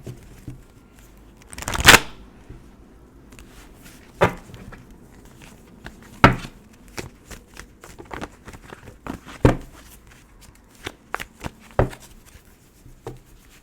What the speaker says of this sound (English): Bear with me as I shuffle these cards.